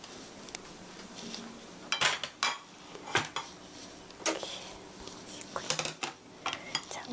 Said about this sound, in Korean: 자, 오늘 덮밥이니까 밥을 푸겠습니다.